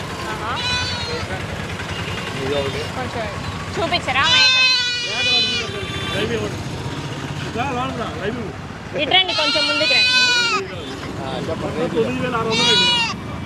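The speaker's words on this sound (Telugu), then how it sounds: "మేక" Goats bleat loudly three times in long, wavering calls, with voices and background noise in between.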